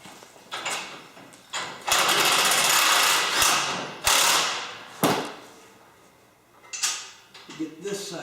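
Ratchet tightening a nut on a front-mount dethatcher attachment for a compact tractor: bursts of rapid metallic clicking and clattering, close and fairly loud, separated by short pauses and knocks.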